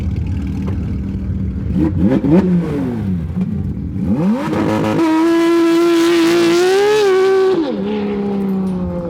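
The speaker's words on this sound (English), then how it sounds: "That R1 Motorsport titanium exhaust is nuts." A Porsche GT3 RS engine with an R1 Motorsport titanium exhaust revs hard, its pitch climbing and falling in repeated surges before holding a loud, sustained rising howl close by.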